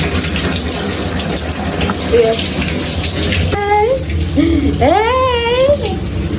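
Water from a shower pours in a steady hiss while a father and son stand under it outdoors. Brief voices and calls rise over the constant rush partway through.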